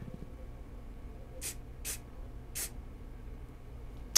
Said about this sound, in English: The other is to use an accelerator spray.